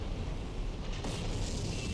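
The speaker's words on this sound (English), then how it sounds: "Just explosion after explosion." A ship explodes with a deep, rumbling blast in the Silent Hunter III naval game, the steady roar swelling with a sharper burst midway.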